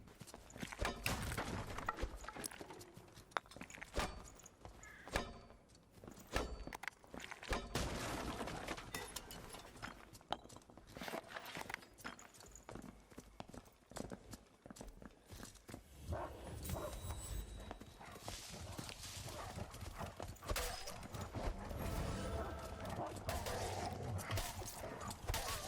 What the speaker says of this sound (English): The footsteps of the wolves and stuff now being a little bit more accentuated.